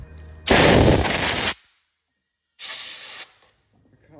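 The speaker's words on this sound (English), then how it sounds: "I like to spray these with the air gun, if you have an air gun." An air gun blasts dirt off differential C-clips on a 2013 GMC Sierra, two sharp bursts of hissing compressed air, the first about a second long and the second shorter, with quiet between.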